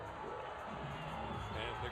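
A high school football crowd, Pirates fans at a home game against El Camino, makes a steady wash of cheering and murmuring, heard from a distance as broad, even noise with no single voice standing out.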